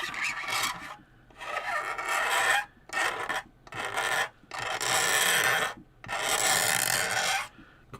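Rasping strokes scrape and file a plastic Airfix Type 45 destroyer model hull, close and harsh, in about six separate bursts of one to one and a half seconds each with short silent gaps between.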